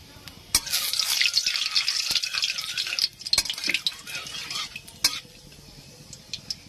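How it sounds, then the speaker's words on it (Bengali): Nigella seeds tempered in hot oil in a pan, a bright crackling sizzle over the first few seconds with sharp clicks and taps of a spoon against the pan, close and moderately loud. "এবার আমি এতে কালো জিরে, এই দেখুন কালো জিরে ফোড়ন দিয়ে দিচ্ছি"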